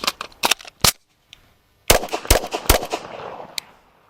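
Sharp pistol gunshots from an MK23 SOCOM handgun, a cluster of several quick loud cracks, a pause, then another burst of closely spaced shots, each ringing out briefly.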